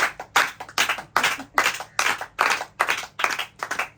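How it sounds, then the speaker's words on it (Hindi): A small group claps together for a sister at a birthday gathering, sharp bursts of hand claps landing in a steady, almost unison rhythm of short groups separated by brief gaps. "तालियां बजा दो आपकी बहन के लिए।"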